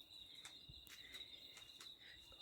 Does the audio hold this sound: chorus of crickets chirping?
yes